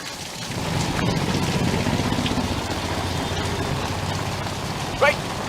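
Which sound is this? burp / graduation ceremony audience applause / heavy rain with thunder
heavy rain with thunder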